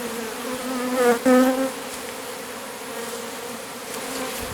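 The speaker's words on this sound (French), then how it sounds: "on voit bien le flux d'abeilles qui va vers la ruche" A honeybee swarm buzzes as bees stream into a hive, a dense droning hum close by with a louder individual bee passing briefly near the start, continuing steadily without talk.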